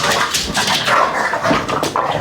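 A dog whimpering and giving short yelping barks up close during a scuffle, with loud, choppy, high-pitched cries coming in quick bursts.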